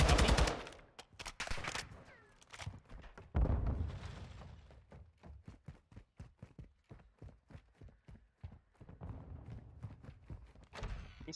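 Rapid bursts of automatic gunfire and single shots in a competitive online shooter match, sharp cracks in dense rhythmic strings with pauses, loud and close with no voices.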